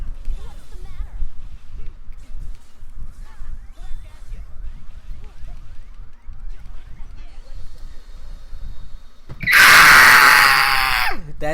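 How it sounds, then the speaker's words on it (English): A loud, harsh scream bursts in near the end during gameplay of James and the Giant Princess Peach, following a stretch of quieter game sounds and chatter, and holds strong for about two seconds. "The scream. The funny scream."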